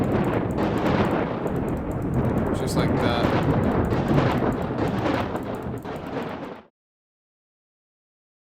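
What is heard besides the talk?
thunderstorm in the video game WorldBox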